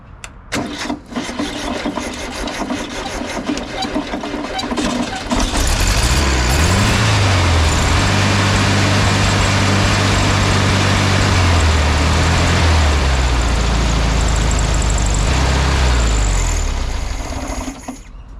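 A 1970 Volkswagen Beetle engine is heard first as intermittent mechanical rattling and cranking, then it catches and runs loud and close, its revs rising and falling in a few swells before settling and cutting off near the end.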